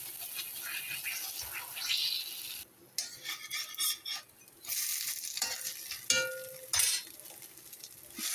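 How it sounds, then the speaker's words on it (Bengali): Oats and suji chilla batter frying in hot oil in a pan, giving a steady close sizzle that swells in bursts, with scraping and stirring noises over it. "তেল গরম হয়ে গেছে, এখন দেবো চিলা"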